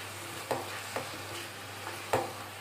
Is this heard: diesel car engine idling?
no